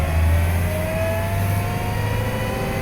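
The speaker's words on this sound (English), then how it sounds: "We are powered by 337 cubic inches of Studebaker straight 8 goodness here." A 1929 Studebaker President seven-passenger sedan with its 337-cubic-inch straight-eight engine runs steadily, a low, even drone with a faint rise in pitch, heard close and continuous with no talking.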